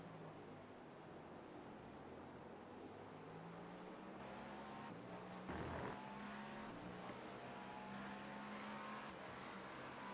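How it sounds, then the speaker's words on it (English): Aston Martin V10 or V12 race car engine at the 2025 Daytona 24 Hours, a faint, steady drone with a brief louder surge midway. "I have seen some Aston Martin ones because I think the car's a V10 or a V12 in it"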